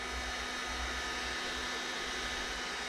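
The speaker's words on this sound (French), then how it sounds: "hormis le pulseur du décapeur, on a aussi les ventilos de la Delta qui se sont mis en route pour refroidir" A heat gun's blower and the cooling fans of an EcoFlow Delta portable power station roar together in a loud, steady broadband whoosh, unbroken for the whole stretch.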